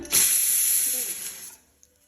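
Mustard seeds, cumin and asafoetida crackle and sizzle in hot oil for a sweet potato pulusu, a loud, close hiss that bursts in suddenly, holds steady for over a second, then quickly dies away.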